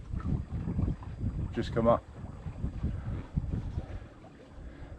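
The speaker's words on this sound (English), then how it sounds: "Got the engine off and sailing." A sailboat heads to windward under sail with its engine off, with wind rushing and water washing steadily around the hull beneath a person talking.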